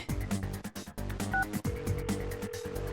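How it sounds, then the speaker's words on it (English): Cell phone dialing in the Persona 4 Arena video game, a quick run of touch-tone beeps followed by a steady tone over a game music bed, close and clear with no voices. "I quickly hit the call button."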